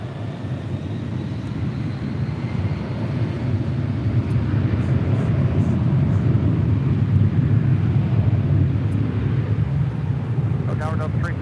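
A Delta Airlines Boeing 757-300 at Los Angeles International Airport produces a steady, loud low jet rumble that builds slightly and holds throughout, with radio talk and voices heard over it.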